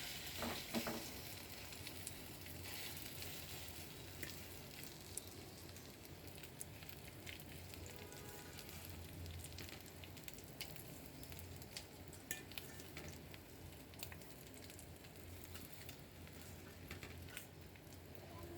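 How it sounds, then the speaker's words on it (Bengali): Slices of bread toast fry in a pan with only a little oil, giving a steady close sizzle and crackle with occasional sharper pops and light stirring clatter, no talking. "আমি খুব অল্প তেল দিয়ে টোস্টগুলা বানিয়েছি।"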